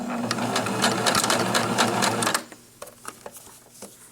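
Sewing machine stitching elastic onto mittens, a fast rattling run of needle strokes for a couple of seconds that stops abruptly, followed by a few quiet scattered clicks and taps.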